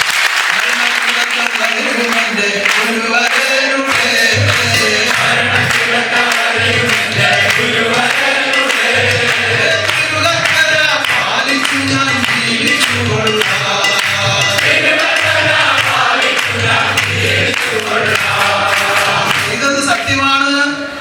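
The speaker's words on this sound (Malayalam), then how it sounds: "നാന്ന് കൈയടിച്ചേ." A large congregation at a worship gathering claps hands in loud, sustained applause that runs unbroken for about twenty seconds, dense and close, with voices mixed in underneath.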